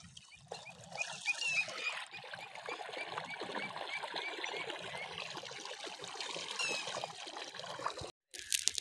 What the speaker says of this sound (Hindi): ये पानी जा रहा है खेत में